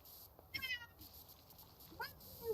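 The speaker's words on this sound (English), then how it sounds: "He's a cat." A house cat meows twice, with rising, drawn-out calls separated by a short pause, close by and fairly quiet against a soft background hiss.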